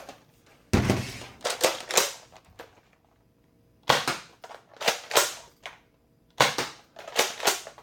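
A Nerf Modulus blaster fires foam darts with its barrel attachment removed, giving sharp, close cap-gun-like pops in three quick bursts of several shots each, with short quiet gaps between bursts.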